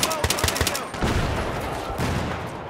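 Battlefield 3 gunfire, with a quick run of rapid close shots at the start and then denser, rumbling bursts of automatic fire under continuous battle noise.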